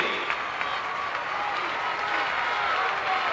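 Stadium crowd at O'Brien Field cheering and applauding as a runner nears the finish of a girls' 3,200 meter state championship race, a steady, dense roar with scattered clapping throughout.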